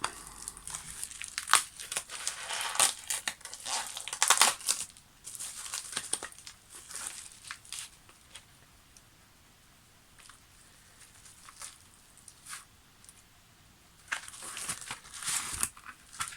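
Crinkly, sticky crackling and tearing as tape is slowly peeled off a graded trading card case, coming in uneven bursts with quiet gaps between them, close and fairly soft.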